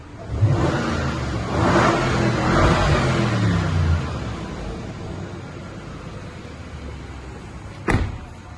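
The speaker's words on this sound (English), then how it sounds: "Here's a nice little exhaust sound" A Bentley Continental GT 4.0 V8 turbo's exhaust revs up in a few deep, throaty bursts that settle into a steady idle, then a short sharp knock near the end.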